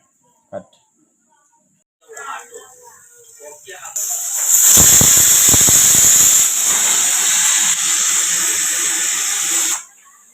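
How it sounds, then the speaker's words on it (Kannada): A pressure cooker on a gas stove bursts into a loud, sustained whistle and hissing steam release lasting about six seconds, after a few faint kitchen clatters, then cuts off abruptly. "ಮೂರು ಸಿಟ್ಟಿ ತೊಗೊಂಡಿದ್ದೆ ನೋಡಿ ಫ್ರೆಂಡ್ಸ್ ಮೂರು ಸಿಟ್ಟಿ ಆದ ಬಳಕೆ ಗ್ಯಾಸ್ ಬಂದ್ ಮಾಡ್ತಾ ಇದ್ದೀನಿ"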